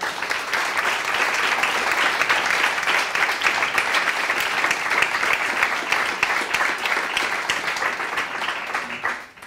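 A large audience at a Podemos talk applauds itself, thick continuous clapping at full strength for about nine seconds before it drops away abruptly at the end.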